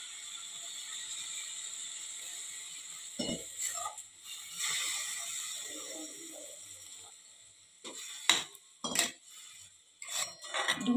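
Hot milk poured into carrot halwa in a pan and stirred in, with soft sizzling hiss and scraping spoon clinks against the vessel, faint and intermittent.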